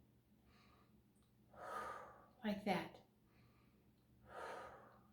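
Slow breaths drawn in softly through the nose and released through the mouth during a guided meditation, a few audible breath sounds spaced apart, close and quiet.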